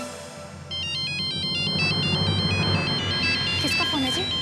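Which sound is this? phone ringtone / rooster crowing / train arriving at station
phone ringtone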